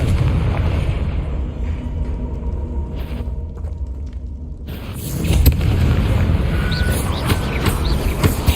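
A fiery blast from the Confringo spell in Hogwarts Legacy: a sudden booming burst erupts about halfway through, over a steady low rumble of game ambience and music, then settles into a dense crackling tail.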